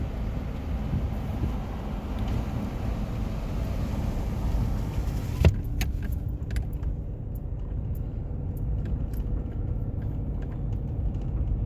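Interior road noise from a truck with a firm ride on a bumpy Arizona state highway, a steady low rumble with a single sharp jolt partway through, no voices.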